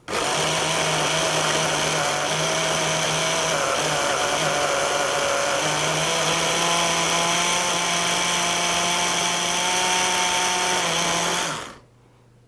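A food processor whizzes lemon pesto, a loud continuous motor whine with a steady high hum that runs for several seconds and then cuts off abruptly near the end.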